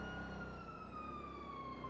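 A police siren wails in a city setting in a GTA roleplay game, sounding faint and distant with a slowly falling tone over a low background rumble.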